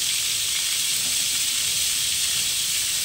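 Whole pointed gourd (potol) frying in a pan, a steady, even hiss of hot oil that holds unbroken and close throughout, with no voices.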